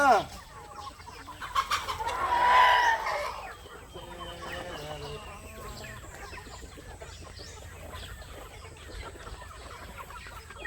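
Several native hens and roosters cluck and squawk nearby at feeding time, with a louder burst of calls early on, then continued scattered clucking and soft background noise.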